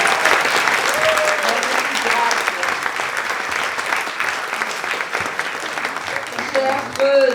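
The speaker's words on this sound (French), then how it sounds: "vous aurez le loisir de pouvoir les applaudir" Sustained applause from a theatre audience greeting the cast at a performance, a loud, dense wash of many hands clapping throughout, with a voice speaking over it.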